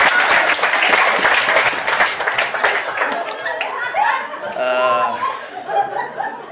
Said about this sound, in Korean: 여기에 공감하시는 분 박수 한번 주시면 대단히 감사합니다